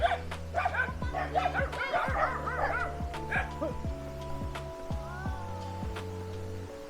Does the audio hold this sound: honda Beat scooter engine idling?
no